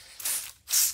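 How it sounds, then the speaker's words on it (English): Two quick hissing bursts from a spray bottle wet a canvas before painting, close and fairly soft, separated by a short pause. "go ahead and wet my canvas and spray down with my spray bottle"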